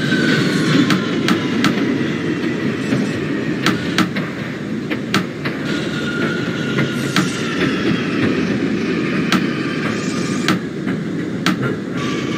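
A Manhattan-bound R179 J subway train in the OpenBVE simulator rumbles steadily along the tracks, with a constant low roar, faint motor whine and regular sharp clicks from the rails.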